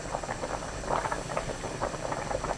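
Doenjang soup with pumpkin leaves, round squash, onion and minced garlic bubbles in a pot, a steady, moderately loud simmer of soft overlapping pops with no voices.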